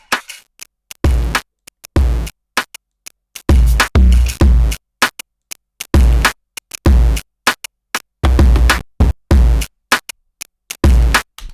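Music run through a sample rounder distortion plugin: choppy, gated bursts of crunchy, bit-reduced sound stuttering on and off in rapid irregular fragments, loud and close with no voices.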